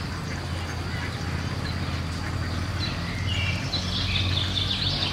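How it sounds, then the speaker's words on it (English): Ducks quack repeatedly at a middle distance over a steady outdoor hum, with faint birds and occasional distant voices. "Ducks."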